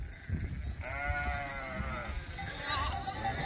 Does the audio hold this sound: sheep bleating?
yes